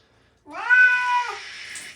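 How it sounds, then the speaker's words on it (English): A distressed cat being bathed lets out a single long, wavering meow, loud and close, rising then trailing off, with faint splashing of water afterward. "it's the sound of a kitty in distress"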